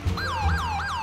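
An ambulance siren in the video game GTA V wails in quick repeating rising-and-falling sweeps, steady and fairly close, with no talk.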